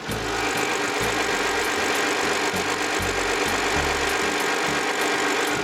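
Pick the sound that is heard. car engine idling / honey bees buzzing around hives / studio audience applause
car engine idling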